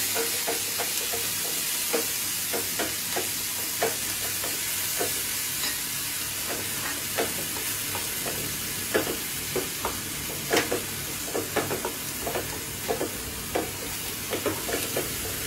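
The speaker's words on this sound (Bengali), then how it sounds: "পেঁয়াজের কাঁচা গন্ধটা যাওয়া পর্যন্ত কষাতে থাকবো।" Onion paste frying over very low heat after cumin for a potol korma, giving an even, continuous sizzle with regular soft clicks and scrapes of a stirring spatula throughout.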